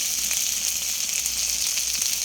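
Chilli goes into a pan of frying potatoes, setting off a loud, steady sizzle with a constant hiss and small bubbling crackles, close up and with no talk.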